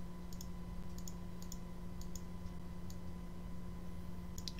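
Mouse clicks at a computer during video export software work, sounding as sparse, light single and double clicks spread over a few seconds, faint over a steady background hum.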